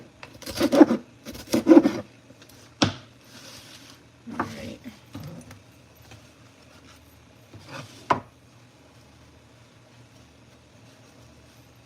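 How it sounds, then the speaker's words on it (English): A knife chops food on a cutting board for a meat dish, several sharp, close cuts in uneven bursts separated by quiet pauses. "Alright, so I'm gonna cut these up."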